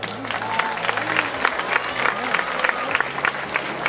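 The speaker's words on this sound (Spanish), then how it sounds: "un aplauso" An audience claps at an outdoor charity folk festival during the Fiestas de la Cruz Santa in Los Realejos, a steady crowd applause with a voice speaking over it.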